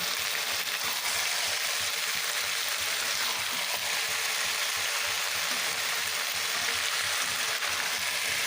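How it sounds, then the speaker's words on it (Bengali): Boiled bottle gourd peels fry in a pan, a dense, steady sizzle that fills the whole stretch with no pauses, close and loud, as they are stirred. "এইভাবে হালকা হালকা করে নেড়ে নেড়ে একবারে লাল করে ভেজে নিতে হবে"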